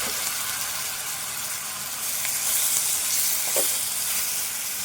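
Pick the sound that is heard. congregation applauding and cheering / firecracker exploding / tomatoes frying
tomatoes frying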